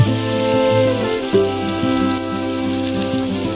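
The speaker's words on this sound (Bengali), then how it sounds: "তেল এবং লবণ দিয়ে ভেজে নিব খুব বেশি ভাজবো না" Pointed gourd (potol) frying in hot oil with salt in a pan, a steady close sizzle running throughout with a few brief clinks, no voices.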